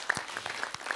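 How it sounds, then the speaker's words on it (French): A brief burst of clapping rises in a municipal council meeting room, short and moderately loud. "je pense qu'on peut les applaudir une dernière fois"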